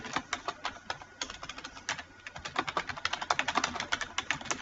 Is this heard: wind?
no